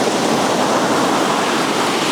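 Sea surf at Ayrmer Cove in Devon, a loud, steady broadband wash of water rushing back out over the shore, mixed with wind buffeting the microphone, with no voices.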